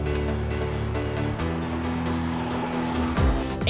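Electric car accelerating on the 2022 Los Angeles Auto Show floor, a steady loud motor whine with tonal layers that shifts pitch midway and swells near the end, no talk.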